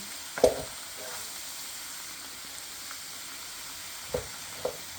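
Pork chops sear in a hot pan with a constant soft sizzling hiss, punctuated by a few dull clunks from the pan or utensil, and no speech.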